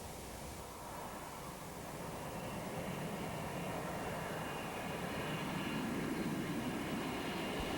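Aircraft engines at maximum power during a takeoff roll from runway 30, a steady broadband roar that builds slightly over the seconds, heard from inside with no talk.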